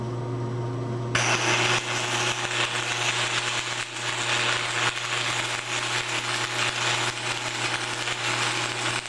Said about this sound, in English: that's one weld, and we're just going to come inside here and do the second one